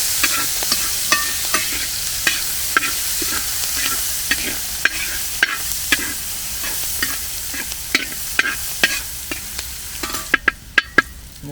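Ginger, garlic, green chili and onion sizzle in hot oil for a Kerala-style pearl spot fish fry, with a steady fry hiss under repeated sharp scrapes and clicks of a spoon stirring the pan, alone and close.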